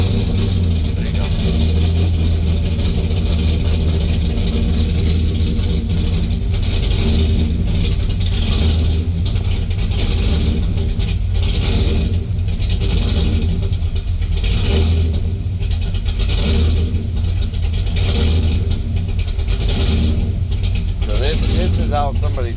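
A supercharged LS-swapped Ford Ranger's engine runs loud and close, revving in repeated blower surges that pulse and swell, while someone talks over it.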